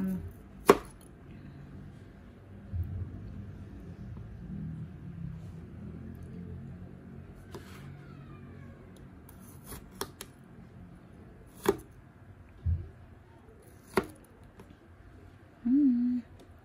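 A knife chops vegetables (chili, tomato, eggplant) on a board while cooking sinigang with corned beef, a few sharp isolated knocks spaced seconds apart, faint and close under a quiet room.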